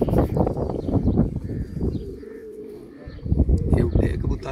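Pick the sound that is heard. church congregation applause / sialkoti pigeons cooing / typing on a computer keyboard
sialkoti pigeons cooing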